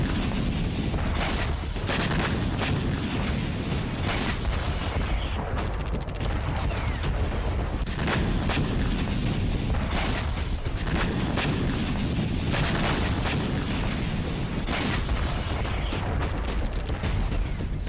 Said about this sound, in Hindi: जमीन पर धमाका और धमाके के साथ आग के गोलों की एक सीरीज।